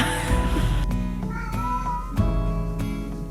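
A cat meows in a few drawn-out, wavering cries, close and clear, with some thumps and background noise.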